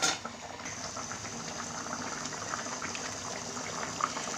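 Chicken and vegetable curry gravy simmering in a pan, a steady close bubbling and gentle boiling that continues without pause and without talk.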